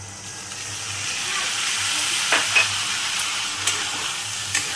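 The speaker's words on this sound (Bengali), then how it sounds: "একটু নেড়ে দেব।" Potato curry frying and sizzling in a pan with a steady hiss, a few scraping stir strokes from a spoon cutting in close by, alone without talk.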